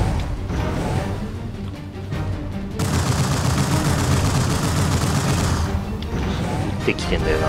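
Enemy gunfire crackles in dense, rapid bursts during Mobile Suit Gundam Target in Sight, loud and sustained through the middle of the stretch, with someone talking over the shots.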